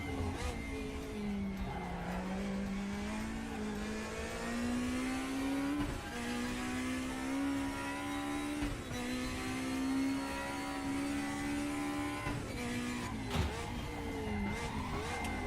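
A race car in a racing simulator brakes early and slides down a hill, its engine droning steadily with rising and falling pitch as it shifts, and brief tire-scrub noises over about fifteen seconds.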